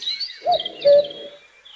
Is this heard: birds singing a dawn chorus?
yes